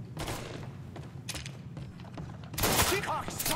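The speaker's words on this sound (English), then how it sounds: "What are you shooting at, bro?" Gunfire in the video game Mafia III sounds as quick, fairly quiet shots in scattered bursts, ending in a louder volley.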